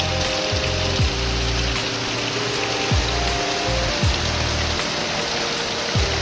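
Heavy rain keeps falling in an unbroken wash of hiss and patter, with occasional brief low sweeps passing through.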